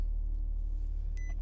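Used car from an insurance auction lot, a smoker's car, idling steadily with a low, even engine rumble close by, with a couple of brief electronic chime beeps near the end.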